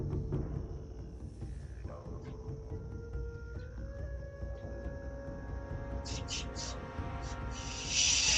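Thin coat of Vallejo light brown spray paint going onto a custom Black Series Andor figure: clicks and handling noises first, then several short hissing bursts close by, the loudest at the very end.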